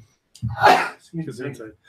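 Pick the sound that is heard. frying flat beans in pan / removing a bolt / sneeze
sneeze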